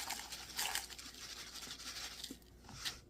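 Rolled oats poured into a bowl for homemade granola, a faint, soft rattling patter in short bursts, quiet and close with no talking.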